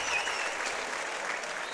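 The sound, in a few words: stadium crowd applauding at lacrosse game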